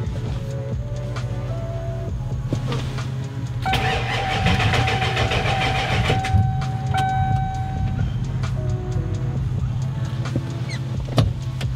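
A car engine fitted with a big turbo cranks for a long stretch on its second startup before catching and running, a whirring crank followed by a steady mid-pitched idle, heard close with no talk.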